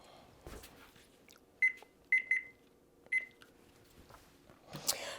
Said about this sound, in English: So we're going to set the timer for 5 minutes.